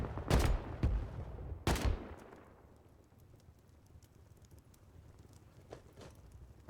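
Shotgun trap in the video game Rust firing, with two loud close blasts about a second and a half apart, each trailing off, followed by quieter game ambience and faint clicks.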